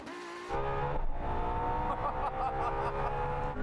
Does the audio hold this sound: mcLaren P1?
yes